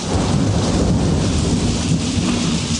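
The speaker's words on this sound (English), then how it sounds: "Here it is Tuesday morning. It's raining outside." A thunderstorm with heavy rain pouring down, a loud dense wash of rainfall under a continuous deep rumble of thunder, steady throughout with no voices.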